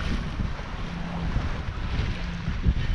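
Gusting wind buffets the microphone over a low, steady rush of water around a First 26 sailboat, continuous and fairly loud with no voices.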